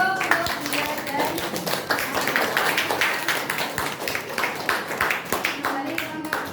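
Applause in a classroom training session, a run of scattered, sharp hand claps from a small group, heard alongside a speaking voice.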